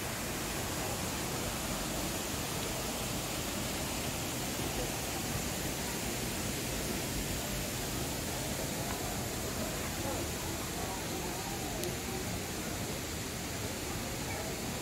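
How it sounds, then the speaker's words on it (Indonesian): Steady, dense rushing of falling water, constant and broadband throughout, like a waterfall heard close by. "Bawah ini ada air terjun."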